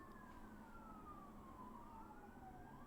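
Emergency vehicle sirens wail outside in the distance, a faint continuous tone slowly sliding downward and then rising, heard alone without talk.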